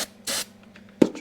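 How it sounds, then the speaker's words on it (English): Fluid sprayed into the carburetor of a 1973 Yamaha RD350 two-stroke motorcycle: a close, hissing burst of about a fifth of a second, then quieter rustling and a couple of short knocks. "Let me squirt some more juice in there."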